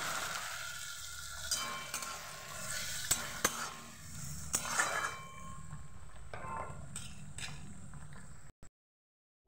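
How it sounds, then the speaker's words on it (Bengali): Ground spice paste frying in a pan for a fish curry: a faint, steady sizzle with scattered stirring scrapes and a few sharp clicks of a utensil against the pan, ending in a brief silence. "মশলাটা সুন্দরভাবে ভাজা হয়ে গেছে। এবার মশলাটাকে আমি দিয়ে দেব।"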